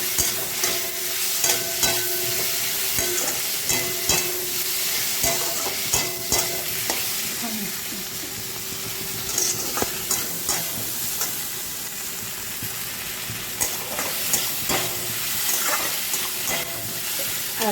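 Grated ginger dropped into hot oil in a pan, frying with a dense, steady sizzle and repeated scraping, stirring clicks close by, no one speaking.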